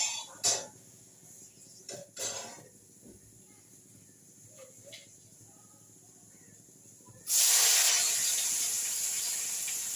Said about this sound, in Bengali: তো এখানে করলা বসিয়েছি, এটা ভাজা হতে থাকুক।